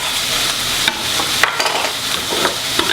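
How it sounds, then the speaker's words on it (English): Onions and garlic brown in a pot with a loud, steady hiss of frying, cut by a few brief scrapes and taps of stirring, near and with nobody speaking. "while the onions are browning"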